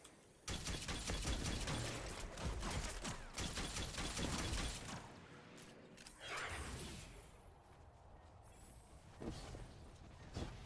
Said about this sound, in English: Solar machine gun, also spicy.